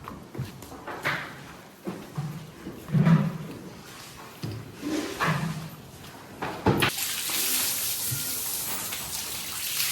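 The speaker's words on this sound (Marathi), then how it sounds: "भावांना बघा, सगळ्यांना मस्त थंड वाटतंय पाणी मारल्यावर अंगावरती" Water is hosed onto buffaloes on a dairy farm in the morning, giving irregular splashing bursts that turn into a steady, loud rushing spray in the last few seconds, with no talking.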